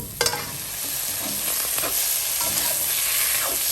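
Garlic goes into a hot pan for an eggplant stir-fry with grilled catfish; a few sharp clicks at the start give way to a steady, close sizzling hiss that holds throughout, with no talking.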